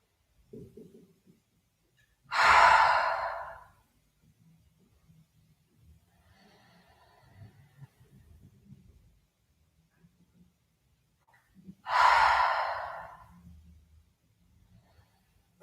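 Two long, deep exhalations pushed out through the mouth during a yoga breathing exercise, spaced about ten seconds apart, close and fairly loud, with quiet room stillness between them.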